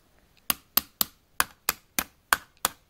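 Scissors tap the metal body of an airsoft AK-74 rifle eight times, sharp close metallic knocks in an uneven rhythm with quiet gaps between.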